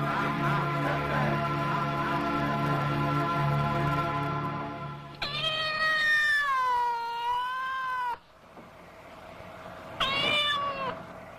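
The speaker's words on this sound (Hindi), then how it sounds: "अरे देखा नहीं काली बिल्ली रास्ता काट गई?" A black cat meows in long, drawn-out wailing calls that sweep up and down in pitch, one sustained cry after a steady droning background, then a shorter meow near the end, loud and close with no talk.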